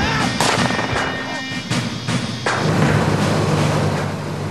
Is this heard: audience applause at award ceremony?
no